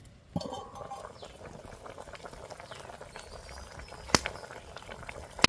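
Crab bubbling in a pot of boiling water, a steady close rolling simmer with a couple of sharp clinks partway through.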